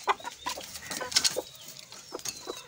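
Chickens clucking as they are let out of their coop on a farm with baby goats, a lively run of short clucks and squawks, close and fairly quiet, with faint chirps between.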